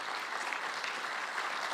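Short burst of dense audience applause at a university gathering, steady even clapping heard alone throughout.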